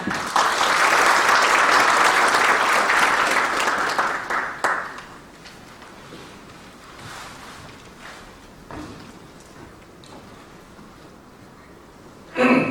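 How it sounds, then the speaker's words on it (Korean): At a defense safety symposium opening ceremony, an audience claps in welcome for an official's address. The applause is full and steady for about five seconds, then tapers into footsteps and quiet room noise, with a brief thump at the end. "큰 박수 부탁드립니다"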